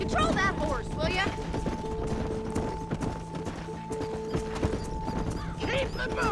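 Horse hooves clip-clop steadily in the Western video game Red Dead Redemption, over a rustic ranch scene with background music and spoken dialogue between characters.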